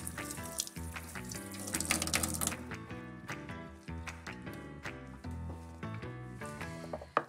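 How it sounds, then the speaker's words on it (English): Running tap water splashes steadily over a piece of brined salmon being rinsed in a kitchen sink, a close, continuous wash with a slight change partway through. "Time to get the salmon out the fridge. Before you can use it, you need to give it a little rinse."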